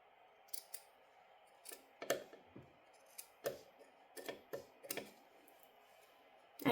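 Dull scissors snip through fabric for baby booties in a series of crisp, close cuts, some single and some in quick pairs, spaced irregularly over a quiet room.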